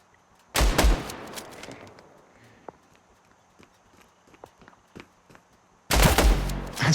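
Two loud bursts of rapid gunfire in a video game, one early and one at the end, separated by a quiet stretch with scattered faint clicks and taps.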